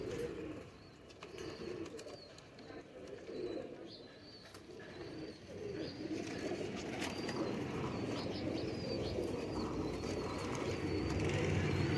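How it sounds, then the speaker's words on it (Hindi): Lakha pigeons and a striped cross pair coo softly in a loft, low repeated cooing mixed with faint chirps and occasional wing flutters, fairly quiet with some background hiss. "ये लाखा कबूतर है और ये पट्टी वाला क्रॉस जोड़ा है लाखा कबूतर के साथ"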